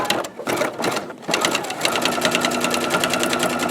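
Close, loud sewing machine stitches a tiny corner seam on a fabric box: a short start, then a fast, even mechanical patter.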